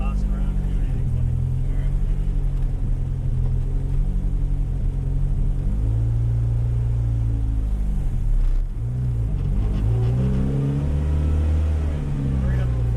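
Car engine on a dyno revving in first gear, a loud low rumble that rises and falls in pitch over several pulls.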